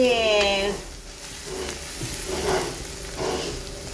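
Tomatoes fry in a pan on a home kitchen stove, giving a steady close hissing sizzle that rises and falls slightly, with a brief voice at the start.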